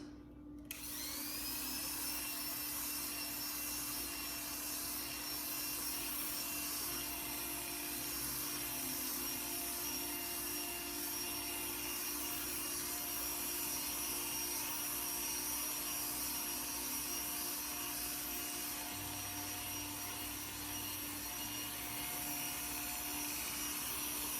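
An electric hair clipper hums continuously at close range while cutting a man's short haircut, with a steady motor whine and faint rubbing against the hair throughout.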